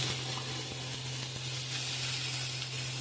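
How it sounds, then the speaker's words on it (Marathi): Steady, close sizzling of tender cowpea pods frying in spiced tempering oil, a continuous crackling hiss with a low hum underneath and no voices. "शेंगा पण 2 मिनटं मी फोडणीमध्ये परतून घेणार आहे"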